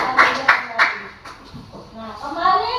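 Students in a classroom clap in several quick bursts, brisk and close, with children's voices chattering and calling out around and after the applause.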